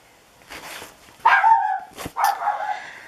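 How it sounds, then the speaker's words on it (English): A dog in another room barks and yips in two agitated bursts, fairly loud and slightly muffled, with a brief sharp knock between them. "my dog is having a fit in there"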